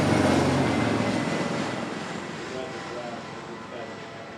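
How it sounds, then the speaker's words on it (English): A Coast Guard aircraft flyover above a high school football game, a broad, loud rumbling roar that fades steadily as the plane passes, with crowd noise underneath. "Flyover from the Coast Guard."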